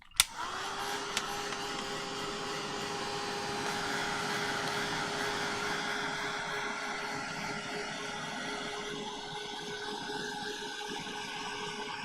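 A hair dryer drying a wet junk journal page with too much medium on it starts with a click and runs as a steady, close, continuous whirring blow with a tonal hum for about twelve seconds.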